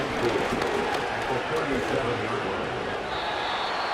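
Stadium crowd noise at a Cowboys vs Lions football game, a broad steady roar of many voices with scattered cheering and clapping, constant throughout.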